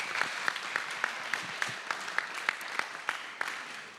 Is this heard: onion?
no